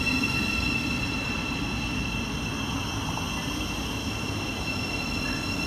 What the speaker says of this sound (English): This train is formed of 8 coaches.